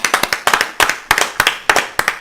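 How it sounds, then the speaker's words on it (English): A single person clapping hands in quick irregular bursts, about twenty sharp, close claps in small clusters, dry and alone with no talking. "What are you clapping for, though?"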